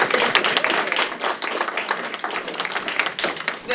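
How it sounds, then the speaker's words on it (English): An audience at a community wildfire-preparedness meeting claps in a steady burst of applause, moderately close and continuing throughout. "give them a round of applause."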